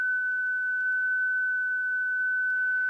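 WSPR radio transmit tone: a single steady pure whistle holding one pitch throughout, constant in loudness over a faint noise floor, with no voices.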